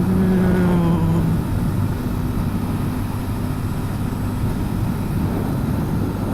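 A Yamaha V Star 250 motorcycle is being ridden, and its engine gives a steady buzzing drone with a rushing wind roar. A tone that sags in pitch can be heard at the start, and there is no talking.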